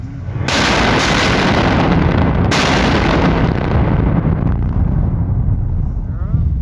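A loud, sustained blast roar from explosive excavation in a road tunnel under construction on the North-South alternative road at the northern portal, a sudden boom that fills everything and rumbles on for several seconds, with no talk over it.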